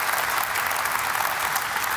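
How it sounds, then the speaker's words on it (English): An outdoor audience at a ribbon-cutting ceremony gives a sustained round of applause, a steady, even wash of many hands clapping at once with no talk over it. "Round of applause for amazing leader, Jim."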